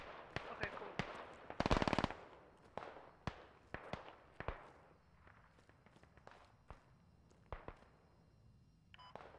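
Blaster weapons fire in a Squad Star Wars mod battle, with a quick close burst near the two-second mark and scattered sharp shots and thumps throughout, with quieter stretches between them.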